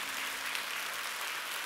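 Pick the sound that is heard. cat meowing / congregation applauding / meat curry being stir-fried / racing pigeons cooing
congregation applauding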